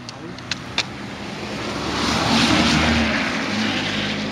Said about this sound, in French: C'est une voiture derrière.